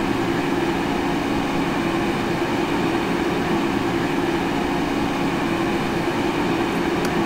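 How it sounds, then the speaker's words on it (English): A Metro-North train on the New Haven Line in the Open Rails simulator, a steady loud rumbling drone of wheels and motors that holds evenly throughout without talk. "Come on, train, let's go."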